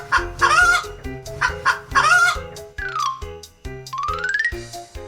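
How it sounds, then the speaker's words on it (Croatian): A chicken clucks in a string of loud, close bursts, with rising squawky calls near the end and no one talking over it. "to je kokoška"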